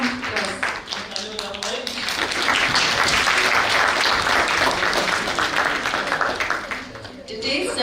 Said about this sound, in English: Today, sir will be deliberating a big round of applause.